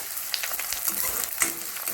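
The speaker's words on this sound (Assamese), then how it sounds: "পিঁয়াজখিনি ৰঙা হোৱালৈকে ভাজি লওঁ।" Onions sizzle and crackle steadily in a hot pan, a soft continuous frying hiss with occasional pops, close by and fairly quiet.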